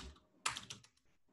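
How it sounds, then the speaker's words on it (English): Quick burst of computer keyboard typing, several crisp key clicks close to the mic, followed by a short lull and a couple of faint later taps. "Let me type in here wire."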